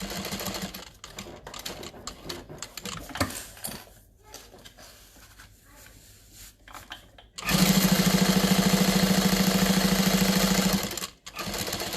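A sewing machine stitching a tote bag, first in short stop-start runs mixed with handling clatter, then a loud steady buzzing stitch for about three seconds before it stops abruptly.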